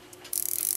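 The click of a Regula 25 cuckoo clock wheel, turned by hand, gives a few soft taps and then a quick run of fast, crisp ratcheting clicks up close.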